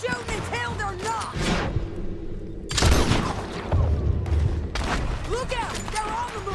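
Bursts of gunfire from a Red Dead Redemption 2 shootout crackle repeatedly over several seconds, with loud thumps and a voice shouting over the fighting.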